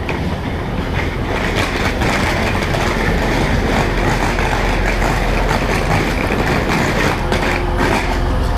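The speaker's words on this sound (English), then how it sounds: "Train's there, hopefully it doesn't leave without me." Loud, continuous rumble of a train at a station platform at Manchester Airport, with rattling, clattering wagons, a dense roar filling the surroundings without pause.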